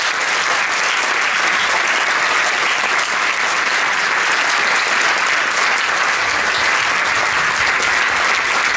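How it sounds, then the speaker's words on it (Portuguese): Loud, sustained audience applause at a children's rights anniversary arts performance, a dense, even roar of many hands clapping continuously from start to finish. "Um aplauso para todos eles."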